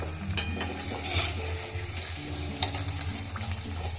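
Singaras sizzle steadily in hot oil, stirred and turned with tongs, with scraping and clinking of metal against the pan rising now and then over the continuous frying hiss.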